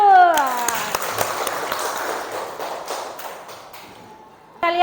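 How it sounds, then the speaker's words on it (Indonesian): Classroom children clapping together, a dense burst of applause that starts loud and slowly thins out over a few seconds, with a voice speaking at the start and end. "Tepuk tangan dulu."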